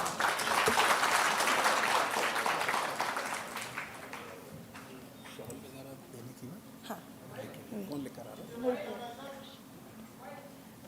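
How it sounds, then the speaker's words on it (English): Audience applause at a pharma and life sciences industry summit, a brief burst of clapping that fades within a few seconds, followed by quieter room noise and speech. "Please give a big round of applause."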